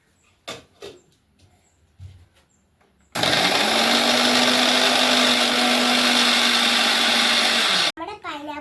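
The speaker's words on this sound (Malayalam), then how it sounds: "ഇനി നമുക്ക് അടിച്ചെടുക്കാം." A mixer grinder whirs loudly and steadily as it blends pineapple with sugar and water, a sustained motor roar lasting several seconds before stopping abruptly, with a few knocks and brief talk before it starts.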